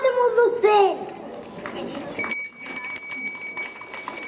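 A school bell rings repeatedly in quick, bright strokes after a voice and crowd murmur, with people chattering around it, at a first-day-of-school ceremony in Ivano-Frankivsk.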